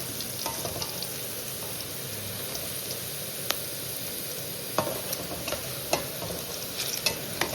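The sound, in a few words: onions frying in tempering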